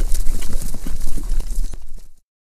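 Horses' hooves gallop fast and loud across the ground as two riders fail to rein in their mounts, a dense rapid clatter that runs for about two seconds and then stops abruptly into silence.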